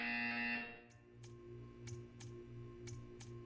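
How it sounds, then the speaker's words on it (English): In the Portal 2 video game, a loud harmonic buzzer sounds for under a second and cuts off, followed by a run of regular ticking pulses over a low electronic hum. "You will hear a buzzer."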